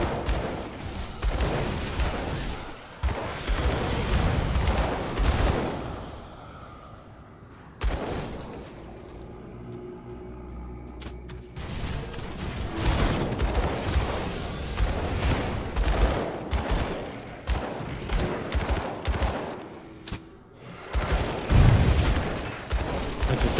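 Repeated heavy grenade explosions and bursts of gunfire in the video game Grim Dawn, in a chaotic sequence, loud and booming, with a brief lull partway through.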